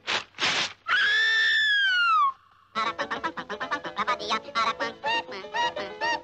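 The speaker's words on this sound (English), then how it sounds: "he's called the Aracuan because of the peculiar song he sings" Zany cartoon song of the Aracuan bird: a couple of short squawks, a long swooping whistle-like cry, then a fast run of chattering, hiccuping notes, loud and close.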